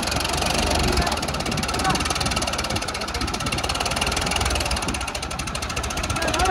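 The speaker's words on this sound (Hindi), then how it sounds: "फिर दब रहा है भाई ट्रैक्टर।" A new Farmtrac 50 tractor labours as it climbs with a trolley fully loaded with sand, its diesel engine a loud, steady, strained drone with a rapid knocking pulse throughout.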